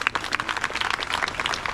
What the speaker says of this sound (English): Let's give a big round of applause for everyone